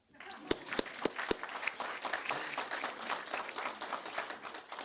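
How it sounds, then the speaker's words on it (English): A few sharp, separate claps open, then a graduation ceremony audience for an election administration program breaks into steady applause that carries to the end, with faint voices in the room. "I think that deserves a clap."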